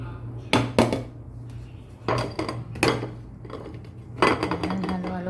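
Macaroni salad mixed in a bowl with utensils, producing bursts of clattering and scraping strokes in clusters, close and clear, with a low steady hum underneath and pauses between the mixing strokes.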